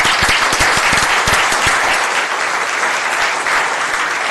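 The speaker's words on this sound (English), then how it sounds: "So let's give him a round of applause." A city council meeting room in Baldwin Park fills with a loud, sustained round of applause, with dense steady clapping from the audience and a few sharp individual claps standing out near the start.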